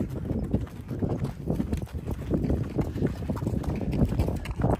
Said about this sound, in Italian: Sono seguito a cavallo.